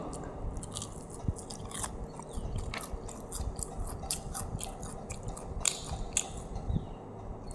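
KFC fried chicken being bitten and chewed, close crunchy crackling bites with steady rhythmic munching throughout, no talking.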